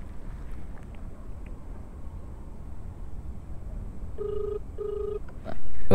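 A ringback tone sounds as a phone call is placed outdoors: two short, faint beeping bursts over steady wind and background noise near the end, followed by a louder thump.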